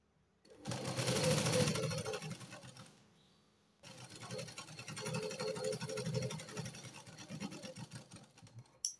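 A sewing machine stitches the lining and outer fabric of a katori blouse together, running in two sustained close bursts separated by a brief pause, with no talking.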